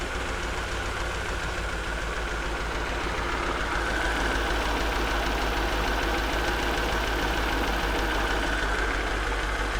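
A Mercedes S55 AMG engine idles steadily and close by, a constant low mechanical hum with a faint rhythmic knock running underneath, with no talk over it.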